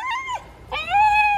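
A dog whimpers close up, two short high whining cries separated by a brief pause, the second longer and steadier, with no talking.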